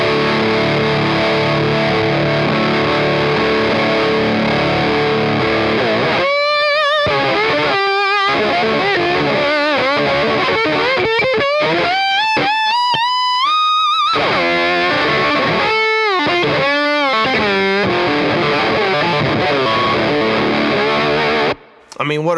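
Electric guitar run through a Beetronics Wannabee effects pedal, heavily distorted and modulated with swooping, warbling pitch bends and stuttering note bursts, loud and continuous with no voices.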